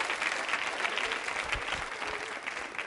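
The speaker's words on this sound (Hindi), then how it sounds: "बजाइए तालियां इनके लिए जोरदार तरीके से।" Loud, continuous audience applause at a Rajasthani culture quiz show in a women's college hall, many hands clapping steadily at close range with a few heavier beats partway through and no voices on top.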